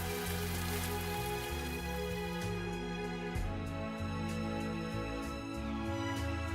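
Steady rain falls in a scene from the video game Cupid Parasite, a continuous hiss beneath sustained music, with no voices over it.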